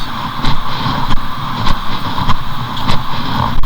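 Water rushes continuously at a dam near a waterfall outside Bandung, a loud broadband roar with periodic surges and gusts of wind buffeting the microphone.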